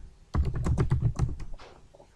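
Java code is typed on a computer keyboard in a quick run of about a dozen crisp, close key clicks, then a few softer taps trailing off.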